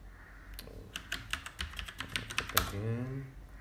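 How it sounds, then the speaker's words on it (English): Quick, light keystrokes tap out a password on a computer keyboard in an uneven run of close clicks, with a brief voice heard near the end. "Type your password."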